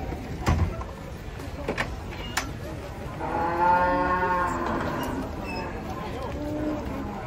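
A large cow being led off a truck lets out a long, loud moo at close range, with a few knocks and thumps before it and background murmuring around it.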